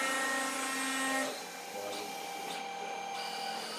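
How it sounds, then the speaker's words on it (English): A sand printer used for additive manufacturing of electronics runs with a steady mechanical whir and hum, broken by brief higher-pitched motor shifts. The sound is moderately loud and close, with no speech. "That's the sand printer."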